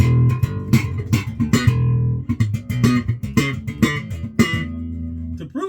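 An American Marcus Miller five-string bass in active mode with the treble boosted plucks a short run of bright, punchy notes, played alone and close.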